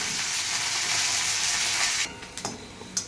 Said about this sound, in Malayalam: വെളുത്തുള്ളി, ഉണക്കമുളക്, കറിവേപ്പില, ഇതെല്ലാം കൂടിയിട്ട് നന്നായിട്ടൊന്ന് വഴറ്റിയെടുക്കാം.